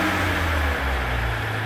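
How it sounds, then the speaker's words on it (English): A steady, low, droning engine rumble with a rough, breathy induction hum from a 2015 Ram 2500 3.0L EcoDiesel with intake swirl control faults, heard up close and continuous throughout. "Like an induction noise."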